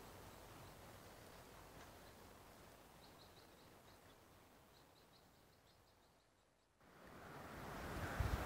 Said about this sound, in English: We're right on the ocean, right there.